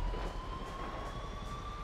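An airplane in GTA V drones steadily with a sustained engine tone and whine, a continuous mid-loud hum with no pauses throughout the short moment.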